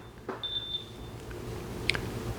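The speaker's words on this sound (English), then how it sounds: "What's that beeping?" A few thin, high electronic beeps from a wristwatch sound faintly against a quiet room, followed by a brief clatter.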